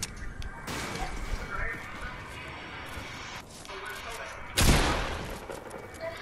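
Gunfire in Fortnite during a Ghostbusters challenge match, a heavy blast and crash standing out over continuous noisy game action and background chatter from players.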